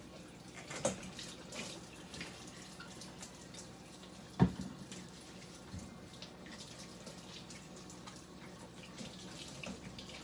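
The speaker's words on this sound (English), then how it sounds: "I'm just going to dive right in and wash my hands first." A kitchen tap runs steadily while hands are washed under it, a soft, even stream of water with a few faint knocks and splashes and no talking.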